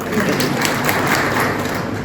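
Steady applause from a crowd at a BJP political rally in Dhari, a dense, even patter of clapping that holds at one level for the whole stretch.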